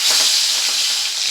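Pieces of sonabogo river fish fry in hot oil, giving a steady, close, broadband sizzle that holds at an even level with no talking.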